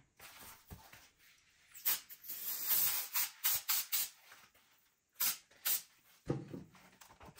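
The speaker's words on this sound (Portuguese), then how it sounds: "Você agita e joga o spray." Spray adhesive from an aerosol can on fabric for an insulated bag: a string of short, sharp hissing bursts of varying length, close and fairly quiet, with brief pauses between them and no speech.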